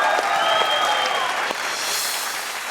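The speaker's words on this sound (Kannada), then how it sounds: "ಹೊಡಿರಿ ಚಪ್ಪಾಳೆ" Studio audience at a Kannada comedy stage show clapping loudly and continuously, a dense, even burst of applause with a few faint whistle-like tones riding over it.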